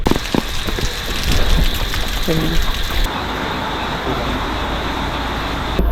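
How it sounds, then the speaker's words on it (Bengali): Heavy rain pouring down at night at the start of a monsoon road trip, a loud continuous wash of drops with clattering hits nearby and faint voices in the background. "এক্সট্রিম বৃষ্টির মধ্যে"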